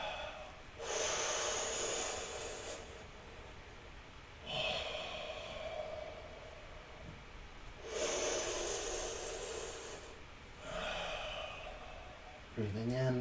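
Slow, deep breaths drawn in and released during a seated yoga twist, close and soft, with long hissing exhales repeating every few seconds in a calm rhythm.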